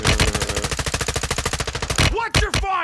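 Rapid sustained automatic gunfire in a military video game, loud and close, a steady stream of shots for about two seconds, then a few heavier bursts and whooshing echoes.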